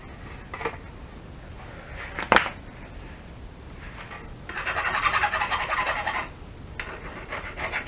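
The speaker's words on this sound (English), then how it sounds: "I'm going to have to deburr that." Hand file scraping the burr off a freshly cut trolling motor shaft, a few short rasping strokes with a longer steady filing run in the middle, close and alone.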